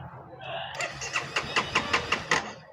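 A Honda CBR 250 motorcycle's starter motor cranking, a rapid series of sharp, evenly spaced pulses that begin after a short whine, close and fairly loud.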